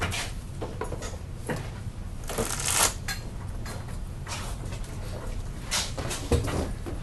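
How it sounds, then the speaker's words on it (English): Cards being handled, slid and picked up during an OverPower card game at a tournament, soft brushing and flicking sounds repeating irregularly over a steady room background. "I'm just gonna pick up a card"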